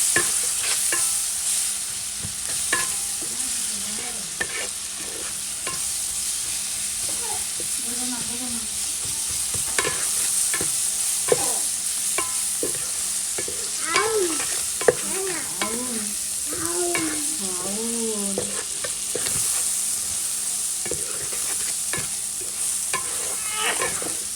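Fish frying in a pan after sugar has been added, a continuous sizzle with stirring and scraping throughout, while people talk faintly in the background.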